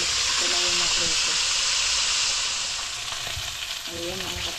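Fish slices sizzle and crackle in hot oil in a frying pan, a loud continuous frying hiss with a voice talking over it at times.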